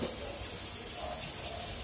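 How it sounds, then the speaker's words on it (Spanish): Water at a steady rolling boil in a pot on the stove for pozole rojo, a continuous close hiss and bubbling with no talk over it. "el agua ya está hirviendo"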